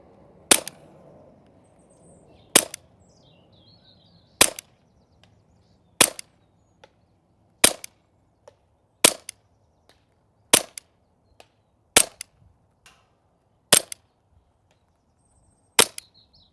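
Novritsch SSP28 airsoft pistol firing 0.3 gram BBs at a head-size target 50 meters away, about ten sharp, crisp snaps spaced a second or two apart outdoors, each followed by a faint tick, with quiet gaps between.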